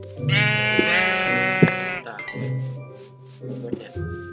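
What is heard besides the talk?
sheep bleating in Minecraft Lord of the Rings mod video game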